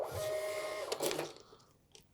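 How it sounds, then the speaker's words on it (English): A small receipt printer runs a brief whirring, buzzing print burst up close, then stops with a faint click as the paper finishes. "It will print off a receipt"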